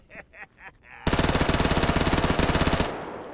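An MP9 submachine gun in the video game STALKER GAMMA fires one rapid, evenly spaced burst of about two seconds, loud and close, after a few faint softer sounds and before a fading tail.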